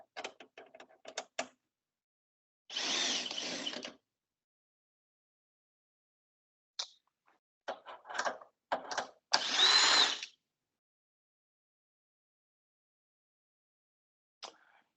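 Cordless power drill backing screws out of the front panel of a freeze dryer, heard as two sustained whirring runs and several short bursts and clicks, close and alone with silent gaps between.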